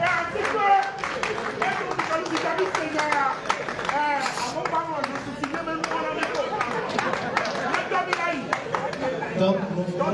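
An audience at an album launch ceremony claps in sharp, dense bursts that hold steady for several seconds, with crowd chatter and a voice mixed in beneath the applause.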